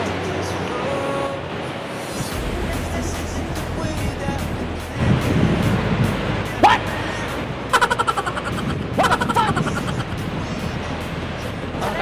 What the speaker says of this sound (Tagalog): Dito tayo sa may dalampasigan.